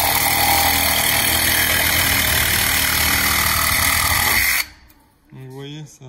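Bosch Professional 12V reciprocating saw making a short cut, a loud steady buzzing that runs for about four and a half seconds and then stops abruptly, followed by a brief quieter voice.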